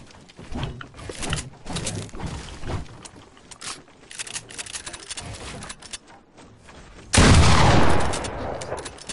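Video game gunfire: scattered close shots and short bursts crackle irregularly, then a loud dense blast of noise near the end.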